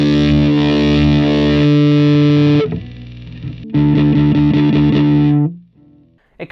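An electric guitar runs through an overdrive pedal with every knob turned fully up, giving loud, saturated chords that sustain, cut off, return for a second burst and then fade, played alone.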